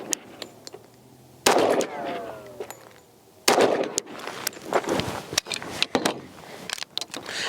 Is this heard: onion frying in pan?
no